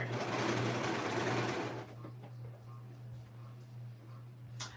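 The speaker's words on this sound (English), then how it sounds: "So I'm really happy to use a serger." A serger sewing machine stitching stretch fabric for a child's dress, running in a loud, fast continuous whir before stopping, leaving a low hum and faint clicks.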